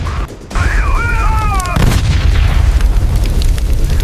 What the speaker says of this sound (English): The Africa Corps met them with a wall of anti-tank fire.